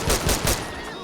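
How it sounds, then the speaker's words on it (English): Gunfire in GTA 5 modded with NVE Sounds from Natural Vision Evolved: three sharp, evenly spaced automatic shots in quick succession, loud and close, trailing off into a fading echo. "gun sounds"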